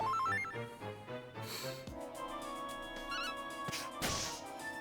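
A cat meows faintly a few times over bright, tinkling background music from a Dragon Quest 9 game session, and no one talks.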